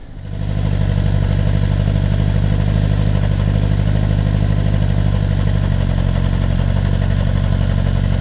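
A restored Honda CB750 motorcycle engine, fitted with a new stator, rotor and brushes, fires up and settles into a loud, steady idle with a continuous low rumble and mechanical clatter, running alone without talk.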